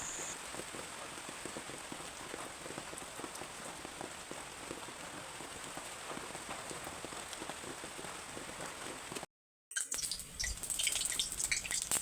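Steady rain pours onto a courtyard, a dense, even hiss for about nine seconds before a brief dropout, then resumes with a few louder close drips and splashes.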